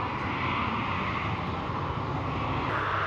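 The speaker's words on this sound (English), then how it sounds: "you hear those Trent XWB engines spooling up" Rolls-Royce Trent XWB jet engines on an Emirates airliner at Newcastle Airport spool up, a steady broad roar with a rising whine, heard from a distance without voices.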